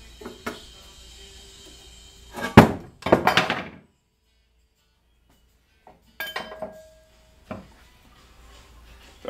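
A wine glass nearly knocked over clunks and clinks loudly against a hard surface in a workshop. A few sharp knocks are followed by silence, then lighter rattles and taps as it is steadied.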